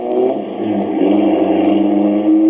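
A Cadillac Hydromatic car driving off as a 1940s radio sound effect, a steady mid-pitched engine drone that builds slightly in revs, moderately loud and continuous, with no voices.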